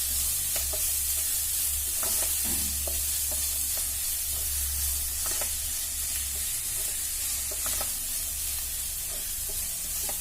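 Onions and green chillies sizzle and fry steadily in a pan for chicken cutlets, with occasional stirring clinks and scrapes, a continuous close-up crackle throughout without any voices.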